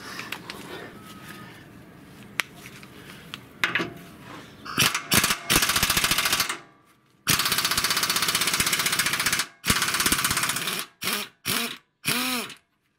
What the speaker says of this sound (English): So we have to take out these two 22mm bolts.